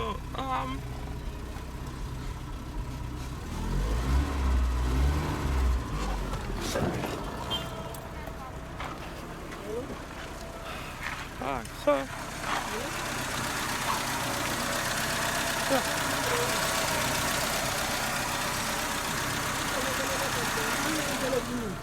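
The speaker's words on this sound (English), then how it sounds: "So the engine runs now." A Peugeot 505 ST during its engine break-in period idles with a steady low rumble that continues under close-up speech and a few clunks, holding an even drone through to the end.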